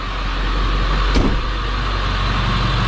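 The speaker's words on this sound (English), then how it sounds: "So truck fires right up." A 7.3L truck engine with over 315,000 miles runs at a steady, loud diesel-like drone close by, with a brief thump or clunk partway through and no talking.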